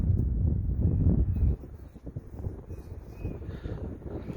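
Wind buffets the microphone with heavy low rumble, strongest for the first second and a half, then easing into gusty, fluttering noise.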